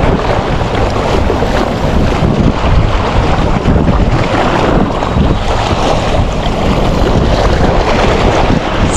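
Strong wind buffets the microphone with a constant roar over open water while inshore fishing for barracuda, and waves wash faintly beneath. No one speaks.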